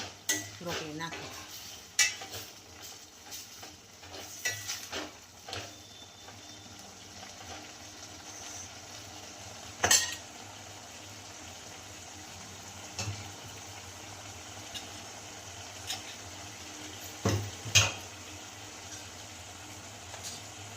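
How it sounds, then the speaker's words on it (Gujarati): Broccoli and paneer being stirred in a cooking pan for a Gujarati-style sabji, with metal spoon scrapes and clinks against the pan coming in scattered bursts over a steady low kitchen hum. "ઉપરથી આપણે બ્રોકલી મિક્સ કરી લેવાનું."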